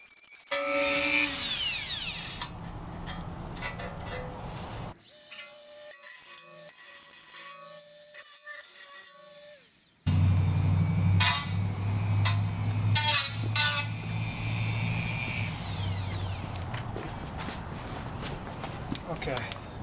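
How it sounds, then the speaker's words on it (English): Power tool grinding metal off the edges of a Tundra brake part during a brake upgrade on a 1996-2002 Toyota 4Runner, loud and harsh in bursts with a quieter stretch midway, mixed with clinks and speech. "I have to grind more material off. So I'm just taking this to clean up the edges so it's not so sharp."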